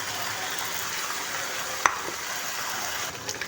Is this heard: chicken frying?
yes